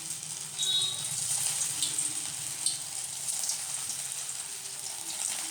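Potato and poha cutlets frying in a little oil in a pan over a medium flame, giving a steady, fairly quiet hiss and crackle with no voices.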